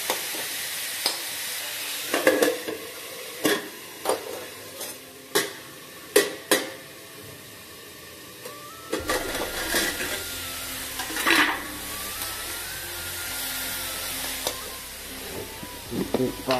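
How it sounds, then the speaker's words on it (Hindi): Spices roasting in a pan in a small bachelor's-room kitchen, with a soft sizzle under repeated clinks and scrapes of a spoon stirring against the pan, close up. The sizzle grows louder and steadier in the later part. "मसाले साफ भूनते हैं।"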